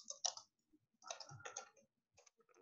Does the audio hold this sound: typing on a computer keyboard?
yes